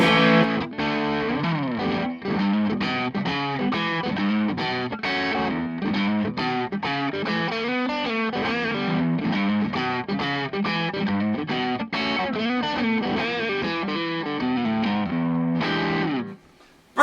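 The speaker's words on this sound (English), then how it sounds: "Neck pickup! Single coil." Distorted electric guitar on the warmer neck single-coil pickup of a Michael Kelly 1957, played as a steady riff of chords and notes, loud and continuous before stopping abruptly.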